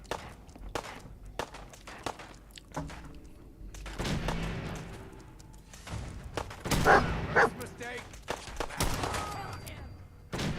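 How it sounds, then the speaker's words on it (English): Gunfire rings out in Fallout 4 as a scattered series of sharp, loud shots with quiet gaps between them, over stretches of rustling movement and a murmur of voices in the middle. "Somebody's shooting me."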